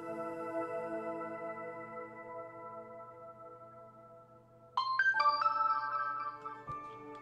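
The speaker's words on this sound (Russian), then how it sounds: "пришла смс компенсация" Phone notification tone for an incoming SMS, a bright melodic chime that starts partway through and rises over a sustained tonal background, close and clear with no talking.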